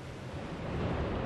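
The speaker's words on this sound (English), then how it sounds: "We have main engine start." Space Shuttle Discovery's main engines igniting on the launch pad, a loud, steady broadband roar with deep rumbling low end that swells slightly and holds throughout.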